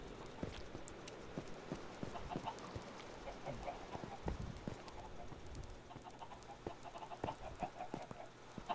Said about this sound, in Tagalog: Ang dami mga manok dito, tingnan mo. Ang dami manok.